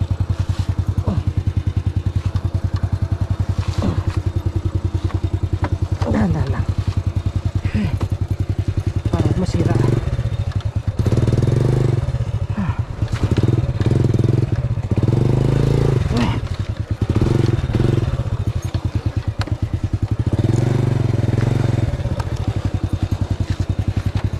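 Honda 100 underbone motorcycle on a rough dirt trail, its engine running steadily and close throughout with revving surges and rattling clatter, while a rider talks over it.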